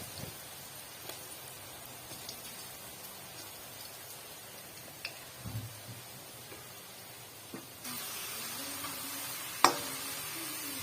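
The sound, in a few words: potato chips frying in oil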